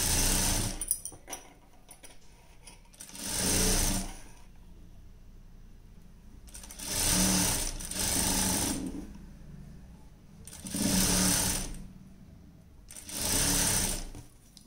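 A sewing machine stitches underwear cloth in four separate loud whirring runs of a second or two each, with quiet gaps between them where small handling sounds are heard; no talking.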